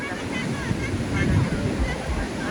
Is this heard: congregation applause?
no